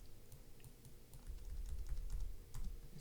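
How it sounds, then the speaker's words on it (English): Computer keyboard typing during a digital sculpting session, faint scattered keystrokes over a low hum and background rumble. "is my keyboard dead again?"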